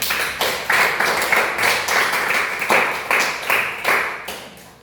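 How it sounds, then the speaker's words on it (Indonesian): A class of children claps together in steady rhythmic bursts, close and fairly loud, the pattern running evenly through the whole stretch without talk. "tepuk tangan untuk kalian semua"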